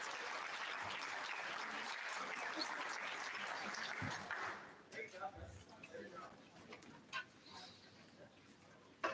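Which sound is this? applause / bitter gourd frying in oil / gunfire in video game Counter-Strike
applause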